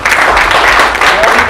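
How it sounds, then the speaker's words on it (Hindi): Audience at a live business presentation giving loud, sustained applause, a thick continuous wash of many hands clapping close by with speech mixed in. "एक बार जोरदार तालियां"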